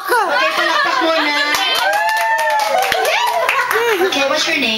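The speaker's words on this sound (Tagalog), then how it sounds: "palakpak muna" Group hand clapping during a party game, quick sharp claps mixed into lively overlapping chatter and excited voices, including children, fairly close throughout.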